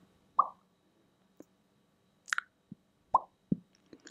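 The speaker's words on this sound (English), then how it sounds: "if I make a weird popping sound during the video, that's how you click on things" Short mouth pops used as clicks for voice-controlled computing sound as a handful of soft, isolated plops spaced irregularly in near silence, close to the microphone.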